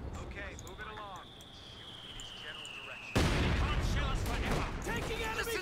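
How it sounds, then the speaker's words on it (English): Sudden bursts of gunfire and explosive blasts erupt loud and close in Company of Heroes 2, following a quieter stretch with a whistling tone and shouted voices, continuing as a dense, rattling barrage. "Taking enemy fire!"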